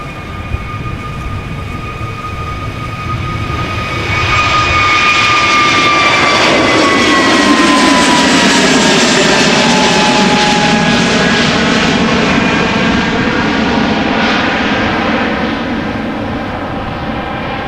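A Chinese Boeing 777 jet passes on departure at Amsterdam Schiphol, a loud, close roar with a high whine that builds after a few seconds, holds steady, then fades slowly, with no voices.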